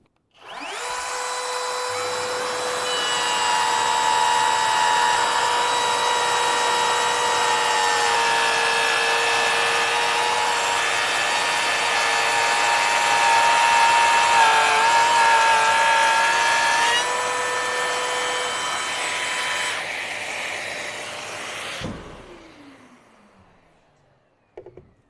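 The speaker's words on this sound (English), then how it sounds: "we have the GLF 18V-8, an affordable edge router and laminate trimmer" A Bosch GLF 18V-8 cordless edge router and laminate trimmer cuts wood, its steady high motor whine running loud and continuous for about twenty seconds before stopping and spinning down.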